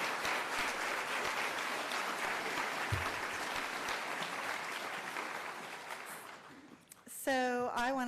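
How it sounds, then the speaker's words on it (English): A town hall crowd gathered on adverse childhood experiences gives Mary Ann Hansen a hearty round of applause, sustained and full before fading out, then a speaker begins talking. "let's give loud and proud Mary Ann a round of applause"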